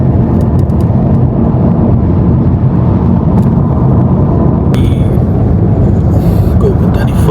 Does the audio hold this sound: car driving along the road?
yes